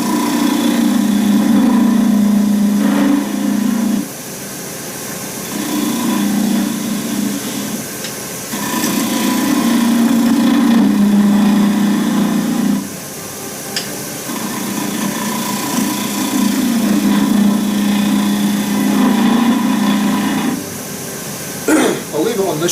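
A wood lathe turns a hybrid blank of timber and resin for a shaving brush, its motor humming loudly in long stretches broken by brief quieter pauses, with a voice talking over it.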